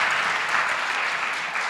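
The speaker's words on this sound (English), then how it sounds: "So can we give first just a round of applause for the top 6?" An audience at an entrepreneurship pitch competition applauds the six finalists, a dense, even wash of clapping from many hands filling the room without pause.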